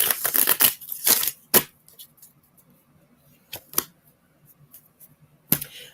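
Oracle cards are shuffled in quick papery riffles and slaps, a dense burst at first, then scattered soft flicks with pauses and one more crisp snap at the end, close and fairly quiet.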